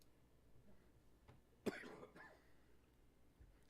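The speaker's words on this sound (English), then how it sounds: "Sorry for my coughing." A single harsh cough bursts out during a county committee meeting, short and close, followed by a softer throat-clearing rasp, with quiet room tone around it.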